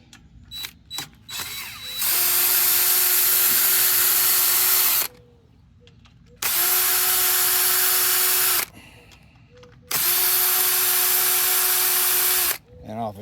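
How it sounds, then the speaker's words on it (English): DeWalt drill spinning bolts off a Kawasaki FJ180V engine: three sustained, loud whirring bursts of roughly two to three seconds each, separated by short pauses with light clicks and handling noise. "I'm going to use a DeWalt drill and spin them off"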